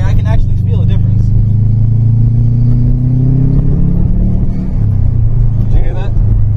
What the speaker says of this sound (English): Did you hear that? It sounded cool, like anti-lag, but it's not anti-lag.